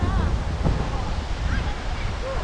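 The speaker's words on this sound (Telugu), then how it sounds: "వాటర్ జల్లు ఇక్కడ దాకా పడుతుంది" Agaya Gangai waterfall in the Kolli Hills sends up a steady roaring rush of falling water and spray, close and loud, with wind buffeting the microphone throughout.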